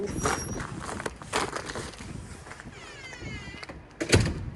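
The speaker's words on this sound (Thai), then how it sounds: "แล้วก็ปิดประตู" A door in a home swings shut with a few dull knocks and thuds spread over several seconds, the loudest bump near the end, set against soft room noise.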